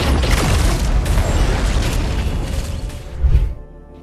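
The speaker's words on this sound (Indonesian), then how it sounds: "Ledakan itu melemparkan Bright ke saluran telepon dan menyetrumnya" A movie explosion from a gas leak set off in a room delivers a heavy, rumbling blast with crackling debris, swelling into a final deep boom before dropping off.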